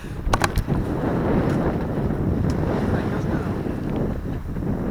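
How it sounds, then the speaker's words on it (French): Steady, loud wind buffets the microphone aboard a sailboat out on the water, a dense continuous roar with small gusts, a few faint knocks early on. "On a des petites rafales"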